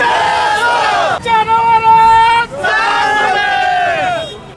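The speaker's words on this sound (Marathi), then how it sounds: "समर्थकांनी जोरदार घोषणाबाजी करत जल्लोष केला" Supporters celebrating a candidate's lucky lottery draw for an election symbol, loud rhythmic chanted slogans from a close crowd of voices shouting together in long sustained calls.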